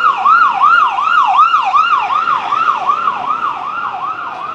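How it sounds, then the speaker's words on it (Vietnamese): An ambulance siren wails loudly and close by at Tan Thanh market, a large spare-parts market in District 5, Saigon. The rapid rising and falling tone repeats steadily over faint street noise and fades slightly toward the end. "Cấp cứu chạy ra chạy vô"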